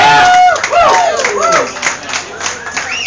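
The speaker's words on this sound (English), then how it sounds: "So applause for Eric," A crowd at a craft beer week gathering applauds and cheers for a brewery helper. Hands clap densely while voices shout and whoop up close over the room noise.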